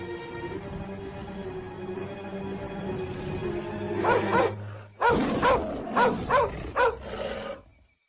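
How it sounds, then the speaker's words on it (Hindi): A dog barks repeatedly and loudly at close range, a run of sharp barks in the second half following a lower growling vocal sound. "इतना क्यों भौंक रहे हो? लगता है पूरे गांव को जगा दोगे।"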